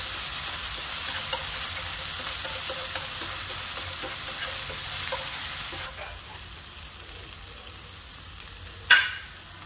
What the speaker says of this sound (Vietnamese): ớt vô mình phi ha. Mình phi cho nó thơm nha.